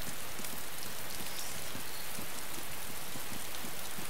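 Steady rain in the survival video game DayZ, a dense, even hiss of drops pattering on surfaces, continuous and fairly loud, with no voices.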